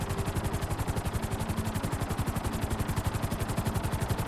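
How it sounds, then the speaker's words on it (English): A transport helicopter in GTA V flies with steady, rapid rotor thumping in an even rhythm that chops continuously throughout, fairly faint and with no voices. "This specific helicopter is a transport helicopter"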